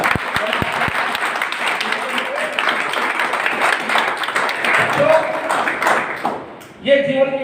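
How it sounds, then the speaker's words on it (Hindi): Crowd of students and guests applauding school staff at a government senior secondary school event, steady dense clapping lasting several seconds before it fades, with a voice speaking near the end. "इसके लिए मैं चाहता हूँ संपूर्ण स्टाफ के लिए जोरदार तालियां बजाएं।"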